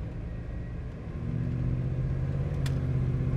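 A 1984 Chevrolet Blazer 4x4 with a freshly rebuilt transmission pulls away from a stop, its low engine rumble swelling steadily louder after about a second.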